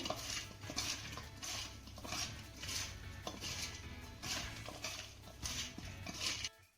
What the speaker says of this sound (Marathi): आता हे घातलेलं मीठ आपल्याला कारल्यामध्ये चांगलं मिक्स करून घ्यायचं आहे